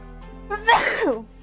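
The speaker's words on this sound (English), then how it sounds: "That was a big sneeze." A single loud, close sneeze with a short intake of breath before the explosive burst.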